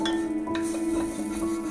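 Garlic and green chili frying in coconut oil in a pan, a steady close sizzle with a light stir and a faint clink of a utensil, no voices.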